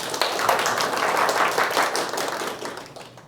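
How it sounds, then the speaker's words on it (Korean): Moderate audience applause before a lightning talk at a developer event, a few dozen hands clapping quickly in a steady patter that swells and then fades. "박수 한번 부탁드립니다."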